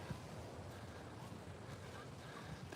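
Ocean waves wash onto the beach at Playa Conchal, Costa Rica, as a continuous broadband rush mixed with wind buffeting the microphone, steady and fairly loud with no talk.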